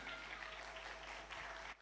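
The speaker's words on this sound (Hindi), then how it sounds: "एक बार फिर से जोरदार तालियां बजाएं यीशु नासरी के लिए" Church congregation applauding at a Sunday sermon service, a dense steady wash of many hands clapping throughout, fairly quiet and distant with a low electrical hum underneath, no talking.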